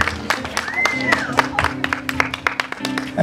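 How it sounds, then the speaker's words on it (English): Scattered outdoor clapping from a crowd welcoming a keynote speaker at a back-to-school youth event, individual sharp claps spaced irregularly, with a voice and a whistling tone heard alongside. "please give a big round of applause to Mr. Marcedes Fuller."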